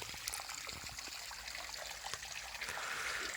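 Water runs from a tap into a concrete pond kept for field eels, making a steady, close trickle and splash with no break and no voices.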